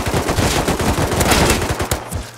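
AK rifle fire in the game Rust: a dense, rapid automatic burst of sharp cracks, loud and continuous for a couple of seconds before trailing off.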